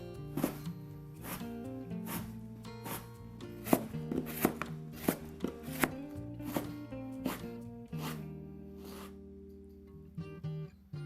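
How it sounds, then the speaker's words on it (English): Radishes sliced with a knife on a cutting board, a steady run of crisp, evenly spaced chops over soft music, pausing briefly near the end before a few more cuts. "Just slice them up."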